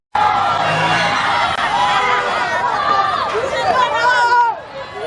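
An angry crowd mobs and surrounds a mayor's vehicle at a protest, a dense, loud wash of shouting voices and babble that holds steady throughout and fades near the end.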